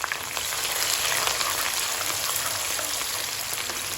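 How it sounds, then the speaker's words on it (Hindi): Sliced onions fry in hot ghee over a medium-to-low flame for an aloo chicken dish, giving a steady, close, even sizzle with no talking. "मीडियम टू लो फ्लेम ही हम इन प्याजों को भूनेंगे अच्छी तरह से"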